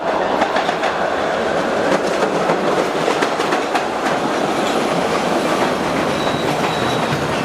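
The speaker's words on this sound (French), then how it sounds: "Un métro qui a été construit en 1897" A Boston subway train rumbles along loudly and steadily, with clattering wheels on the rails and a faint squeal, close by and continuous.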